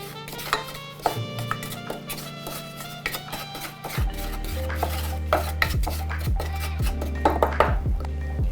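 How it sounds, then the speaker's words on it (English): Ginger, garlic and brown sugar are stirred around a hot pot, a spoon scraping and clinking against the metal in irregular strokes, close and fairly loud, over soft background music. "Give it a stir."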